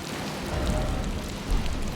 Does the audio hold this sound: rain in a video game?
yes